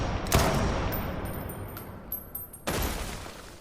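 Gunshots in a scene from the anime Gachiakuta, a sharp shot near the start and another burst later, with a rumbling, reverberant tail and background score between them.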